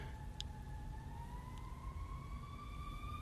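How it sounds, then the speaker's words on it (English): Ambulance siren wailing outside, a faint rising tone that carries steadily through the clip over a low rumble of background noise. "if you hear that ambulance"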